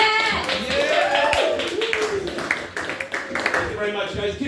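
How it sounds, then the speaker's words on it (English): Comedy club audience applauds and cheers as a comedian is introduced to the stage, with clapping and voices running steadily throughout and no pause. "start clapping right now"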